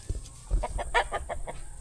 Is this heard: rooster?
yes